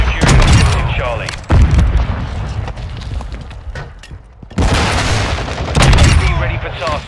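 Mortar strike explosions and gunfire in Modern Warfare 2 land as heavy booms with rattling shots, loud bursts at the start and again near the end separated by quieter stretches of rumble and scattered fire.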